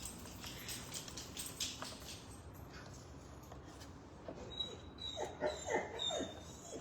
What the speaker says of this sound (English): We've got two kelpies. This one squeaks.